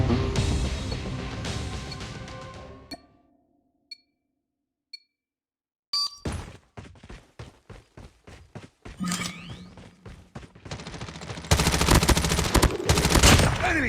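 A gunfight in the video game Rust: dense bursts of rapid gunfire, a near-silent pause with a few faint blips, then renewed strings of evenly spaced shots building to sustained heavy fire.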